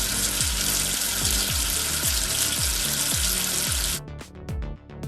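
A cartoonish rush of running water rinses soap away in a kids' number-washing game. A steady hiss of flow carries repeated bubbly gurgle pulses, then cuts off into a few short splashy blips.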